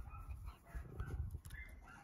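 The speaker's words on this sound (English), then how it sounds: "you hear a dog in the background barking" A dog barks faintly in the background on a farm during a mid-July evening, with short distant yelps and whimpers over a low rumbling outdoor ambience.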